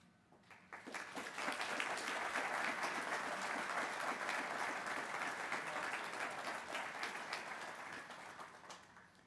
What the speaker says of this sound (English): I believe they well deserve this round of applause